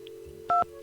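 Two short touch-tone dialing beeps from a phone keypad in the Nancy Drew game The White Wolf of Icicle Creek, each about a tenth of a second, clear and close over a low steady game hum.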